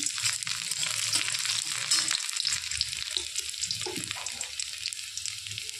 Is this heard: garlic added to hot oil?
yes